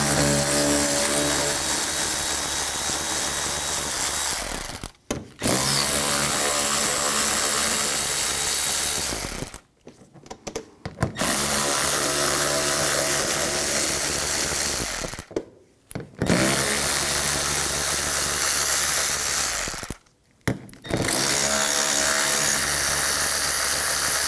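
A power tool with a 7mm socket spins out inner fender well screws on a 2013-2019 Ford Escape, a loud ratcheting whir in four long runs separated by short pauses.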